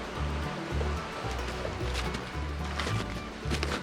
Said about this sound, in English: this river is going pretty strong